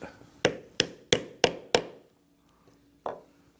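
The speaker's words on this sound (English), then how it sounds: "with the rivet setter we will set the rivet." A rivet setter is struck to set a capped rivet in leather for a log carrier, giving five sharp, evenly spaced hammer taps. A pause follows, then one last tap, all close and crisp.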